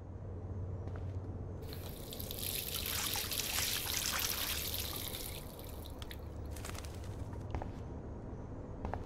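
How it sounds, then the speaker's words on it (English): Water runs from a bathroom sink tap in the video game Life is Strange, a steady trickling stream that swells louder midway and then eases, heard close with no talking. "Last time I wanted to splash some water on my face"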